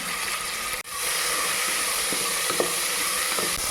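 Spices and fenugreek leaves fry in hot oil in a pan, giving a steady, close sizzle with a brief dip and a few small crackles and pops.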